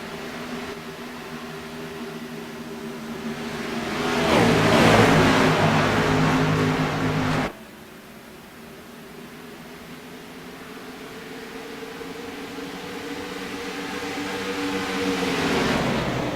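Race cars at a Darlington Raceway restart drone past, a sustained engine roar swelling as the pack nears, cutting off abruptly, then building again from a distance, with no voices.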